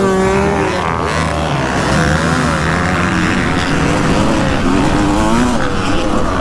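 A dirt bike engine drones loudly and continuously during a race, its pitch rising and falling with throttle changes, close up with no pauses.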